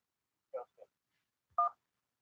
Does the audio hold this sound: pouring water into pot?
no